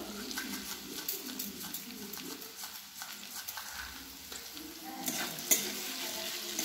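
Baby corn frying in a kadai gives a steady close sizzle with stirring scrapes, while a pigeon coos softly in the background and the frying swells louder near the end.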